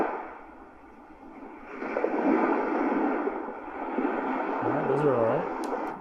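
Ocean waves wash in with a broad, rushing swell that builds and recedes twice, a faint low voice briefly audible near the end.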